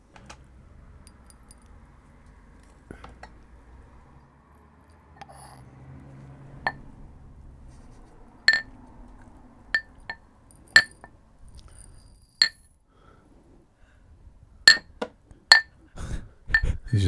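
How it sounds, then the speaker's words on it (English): Peppercorns are pounded with a pestle in a mortar, heard as sharp, bright clinks and knocks spaced irregularly with quiet gaps between, clustering faster near the end. "he's going to mortar and pestle them."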